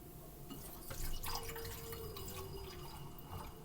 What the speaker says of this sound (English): The kombucha goes into bottles with a swing top in order to keep the fizz in the fermentation.